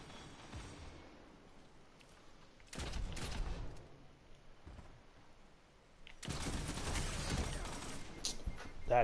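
Gunfire in the video game Gas Station Nightmares comes in two loud, dense bursts of rapid shots separated by a quieter stretch.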